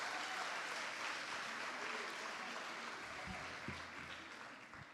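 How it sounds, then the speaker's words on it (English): Audience applause fills an awards ceremony for student leadership excellence, a dense, steady clapping from a crowd that stays fairly even before tapering off slightly at the end. "So that can get a round of applause."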